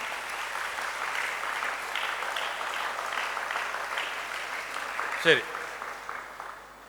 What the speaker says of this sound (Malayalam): ആദ്യം ഒന്ന് കൈയടിച്ച് നോക്കട്ടെ, നല്ല സ്ട്രോങ് ആയിട്ട്